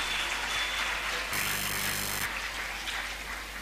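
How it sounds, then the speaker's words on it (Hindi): Audience at a live Independence Day speech competition show applauding steadily, a dense even wash of clapping throughout with a brief electronic tone partway through. "एक दफा फिर इनके लिए जोरदार तालियां होनी चाहिए।"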